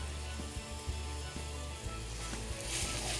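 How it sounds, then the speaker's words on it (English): Peppers and onions sizzling with lean ground beef in a pan in an RV kitchen, a steady loud frying hiss with a few clunks of stirring. "Let's throw in our peppers and our onions."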